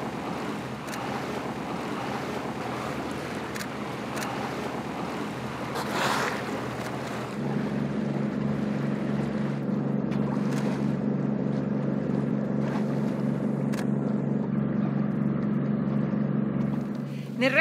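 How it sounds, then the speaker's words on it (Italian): Fishing trawlers working as a pair, towing a net at sea, make a steady low engine rumble with a regular pulsing throb over wind and water noise, rising louder after the first few seconds and continuing throughout. "questo rombo che si sente è il rumore dei pescherecci che stanno trainando la rete"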